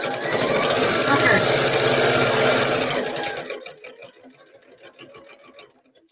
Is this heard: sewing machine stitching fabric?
yes